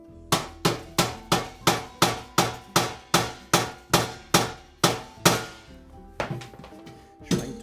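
Forced entry on a combination safe, prying at its bottom side: about fifteen sharp, evenly spaced metallic blows ring out close and loud, then a few slower, irregular knocks.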